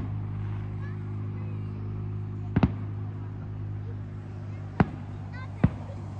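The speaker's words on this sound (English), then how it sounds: "someone pushes a button a few feet away and activates the firework" Fireworks at a Canada Day celebration in Red Deer, three sharp distant bangs over a steady low hum of a crowd and nearby engine noise.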